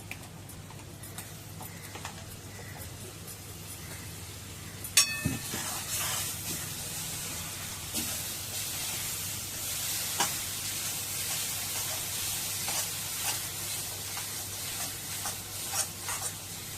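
Ground masala paste frying in a pan for Kolhapuri tambda rassa chicken curry, a steady close sizzle with a sudden louder burst as the paste hits the oil, then continuous crackling hiss with scattered ticks and stirring scrapes.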